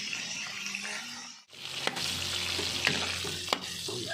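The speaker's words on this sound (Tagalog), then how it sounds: "papupulahin lang natin ang kaunti yan at ating gigisa na" Ingredients sautéed in a pan for batchoy, a bright steady sizzle with a brief dip, then scraping stirs and a few spatula knocks against the pan.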